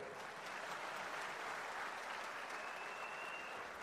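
Steady, dense applause from a large crowd at a program launch event in Senegal, continuous and loud throughout with no pauses.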